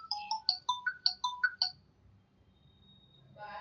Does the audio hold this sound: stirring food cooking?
no